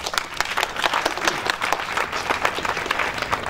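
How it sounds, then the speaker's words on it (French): A congregation at the birthday ceremony of the prophet Joël Krasso applauds him, a dense, continuous rattle of many hands clapping at an even level throughout. "que je demande encore une fois d'applaudir,"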